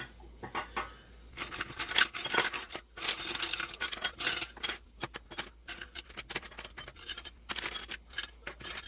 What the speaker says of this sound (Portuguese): E nesse recipiente eu vou colocar gelo